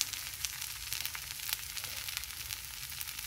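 Millet and mixed pulse dosa batter sizzles on a hot pan over medium heat, a continuous bright crackling hiss with small irregular pops, steady and close, no talking.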